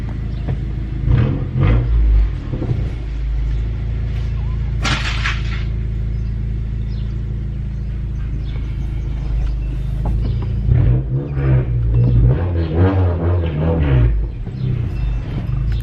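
A 2018 Honda Accord fitted with a Civic Si manual transmission on its first drive, its engine rumbling and revving up in waves, loud and close throughout with no talk.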